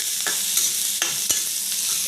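Chopped onion frying and being stirred in a hot pan for spicy Maggi noodles, a steady broadband sizzle with a few short scrape-and-stir accents, close and loud, no voices.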